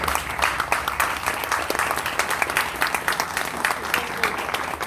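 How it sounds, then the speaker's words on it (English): Audience in a church gathering applauds steadily for about five seconds, a dense, continuous patter of many hands at moderate loudness with no speech over it. "let's just give one round of applause from all of us for what we are doing"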